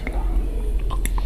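Close, soft chewing of crispy-outside, soft-inside kunafa filled with cream and banana; a short burst of moist mouth sounds with faint crunch.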